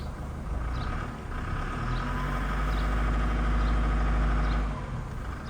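An Isuzu D-Max 2.5 pickup's diesel engine runs steadily with a deep low rumble and faint rhythmic clatter, swelling briefly as revved, then settling back.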